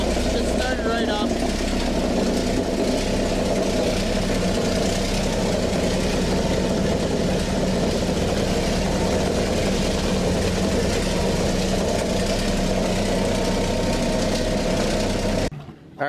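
A 16-cylinder Detroit Diesel 16V71 two-stroke engine idles steadily just after starting, a loud, dense rumble that holds constant throughout before cutting off abruptly at the end.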